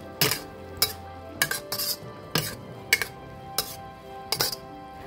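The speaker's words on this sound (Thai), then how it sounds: "ผัดต่อไปจนเห็ดสุกดีเลยนะคะ" Metal utensils clink and scrape against a wok in repeated sharp strokes, stir-frying mushrooms, an irregular stirring rhythm close by with no talking.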